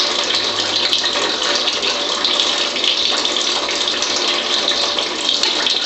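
IonQuench water ionizer pouring acidic water into a cup, a steady loud rushing stream like a running tap, continuous and unbroken throughout.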